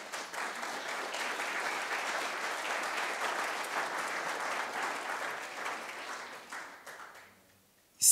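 Audience applause at a French talk on regenerative business, a steady wash of many hands clapping for several seconds, fading out gradually before a sudden sound at the very end.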